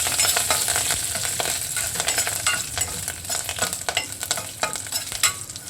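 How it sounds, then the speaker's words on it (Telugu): Curry leaves and dried red chillies frying in hot oil on a low flame for a Telugu pappucharu (dal rasam), giving a steady close crackling sizzle with bursts of spattering and the scrape of stirring throughout, no voices. "ఇప్పుడు లో ఫ్లేమ్లో దీన్ని ఇలా వేయించుకుంటే బాగుంటుంది"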